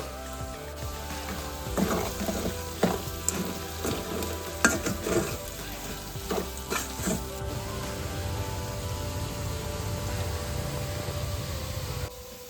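Potato pieces frying in hot oil with salt and turmeric give a steady, close sizzle, broken by a busy patch of clinks and scrapes from stirring before the sizzle settles back to a constant hiss.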